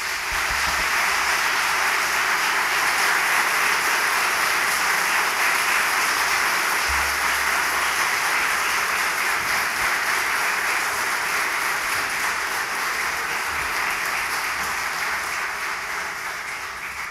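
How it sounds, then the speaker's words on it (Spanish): An audience at a Supreme Court swearing-in ceremony for new lawyers applauds in a long, even wash of clapping that holds for about seventeen seconds before tapering slightly at the end. "El público les puede brindar un merecido aplauso."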